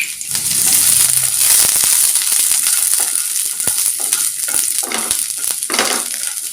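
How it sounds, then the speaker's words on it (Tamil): Garlic sizzles and crackles in sesame oil in a pan, a loud steady fry with scraping stirs and clinks of a spoon throughout. "பூண்டு நல்லா வதங்கிடட்டும்."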